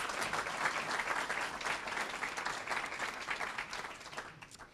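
Audience applause fills a room during a city's State of the City address, steady broadband clapping from a sizable crowd that holds even for several seconds before thinning out near the end.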